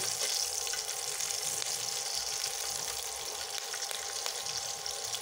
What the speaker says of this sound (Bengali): ভেজে নেওয়া হয়ে গিয়েছে মরিচগুলো, এরকম করে ভেজে নেবেন।